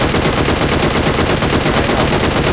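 Machine gun fire in PUBG Mobile: a loud, sustained stream of rapid, evenly pulsing shots that rattles on without a break, with no voices over it.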